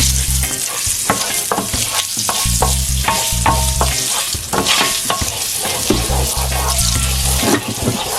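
Olive oil and curry powder sizzle loudly in a pot close by, a dense steady frying hiss with repeated stirring scrapes and knocks throughout, and no speech.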